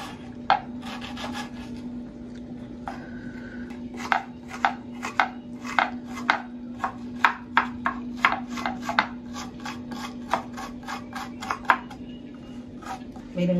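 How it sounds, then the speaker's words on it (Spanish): An onion chopped with a knife on a board for a pork and guacamole dish: steady, fairly rapid, crisp chops close by over a constant low hum. "Vamos a picar nuestra cebolla"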